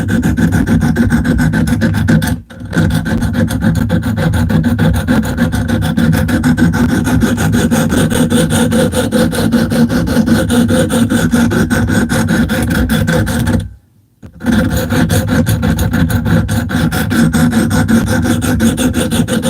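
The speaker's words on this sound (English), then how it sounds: "This is gonna sound really angry for a minute until I get that burr off." Harsh, rapid rasping of a file working a burr off metal, loud and continuous with a steady back-and-forth rhythm, broken by two short pauses.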